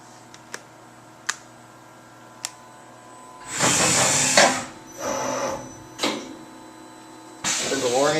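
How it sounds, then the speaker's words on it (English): A 2006 Fadal 4020 CNC machining center with a Fanuc 18iT control performs a tool change: a few sharp clicks, then loud mechanical whirring and clunking bursts as the spindle and carousel move, close and prominent. "I'll demonstrate a tool change."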